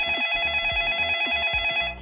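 A telephone rings close and clear in steady, repeating trilling bursts, with no voices.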